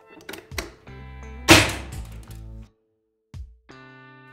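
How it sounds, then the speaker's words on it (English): A projectile strikes an ESS Crossbow mil-rated eye shield during impact testing: a sharp, loud hit with a brief ringing resonance, set among a few lighter knocks and clicks in an otherwise quiet space. "Now we're going to shoot the ESS Crossbow mil rated eye shield."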